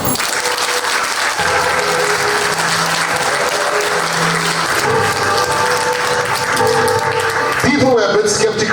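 Wedding guests applaud in a large hall, a loud, steady wash of clapping that carries throughout with talk and music faintly beneath it.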